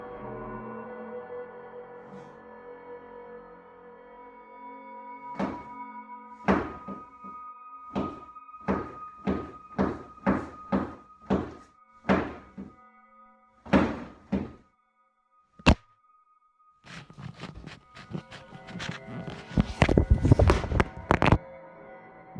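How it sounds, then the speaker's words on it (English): Knocks sounding in an eerie home recording, a run of sharp separate thuds coming in quick bursts, with a pause and then a louder, denser cluster of impacts over a low steady hum. "The knocking continues"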